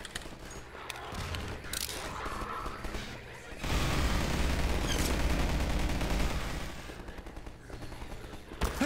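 Rapid automatic turret gunfire in the Half-Life 2 co-op game, sustained bursts that swell loud in the middle of the stretch over a dense, noisy in-game background, then ease off slightly toward the end.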